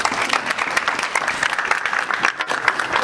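Mourners at a viewing and burial service stand and applaud the speaker's mother. The clapping is loud, dense and steady, filling the whole stretch with no talk over it.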